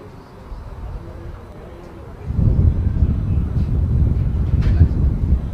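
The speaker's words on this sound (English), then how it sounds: "Another big gust, just what you want as you release." A big gust of wind buffets the microphone at an outdoor lawn bowls finals day, a low rumbling roar that swells midway and stays loud, with faint background voices.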